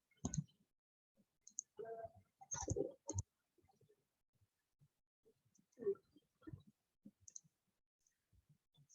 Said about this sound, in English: I'm going to right click my new sheet and duplicate